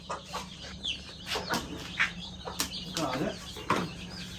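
Broody hens cluck near a hatching setup. Short, repeated clucks and brief squawks come close and irregular over a low steady hum, with a person speaking softly at times.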